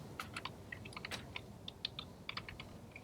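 Small plastic electrical connectors snapping into the switch housings of a Ford Crown Victoria door panel, a run of light, close clicks scattered over about three seconds with no voices.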